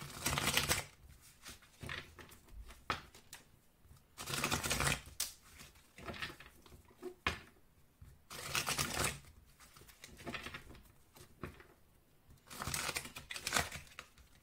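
Oracle cards being shuffled and cut, heard as repeated bursts of riffling and flicking in close, fairly loud clusters separated by brief pauses.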